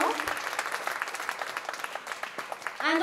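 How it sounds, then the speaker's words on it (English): A crowd at a charitable event visited by the Governor of Goa breaks into lively applause, dense and fairly close clapping throughout, with a voice starting to speak over it near the end. "Can we all give a huge round of applause"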